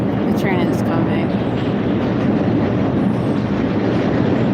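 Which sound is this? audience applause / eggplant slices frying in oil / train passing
train passing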